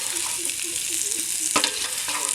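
Bitter gourd and onion sauté in hot oil with a steady, close sizzle, and a few louder stirring scrapes break through near the end.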